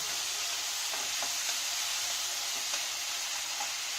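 Onion and capsicum with spices frying in soy sauce for chilli potato: a continuous bright, hissing sizzle at close range, broken by occasional soft clicks of a spatula stirring in the pan.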